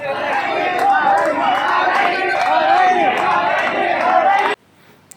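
A large, dense crowd at the Ambabai palanquin procession in Kolhapur makes a loud, continuous roar of voices, chants and calls that cuts off abruptly near the end.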